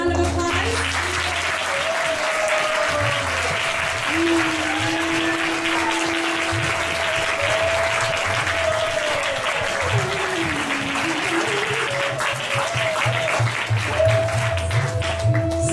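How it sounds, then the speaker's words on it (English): Sustained audience applause after an amateur community drama performance, dense and steady clapping throughout, with a held musical tone and faint voices running underneath. "So please give them another round of applause."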